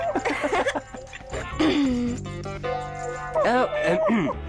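A small dog yips and whimpers among lively talk, with a sustained musical tone underneath and excited voices rising near the end.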